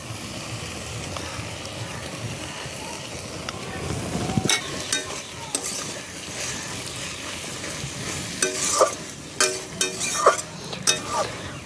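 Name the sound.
stir-frying water lily stems with shrimp, green chili, mustard paste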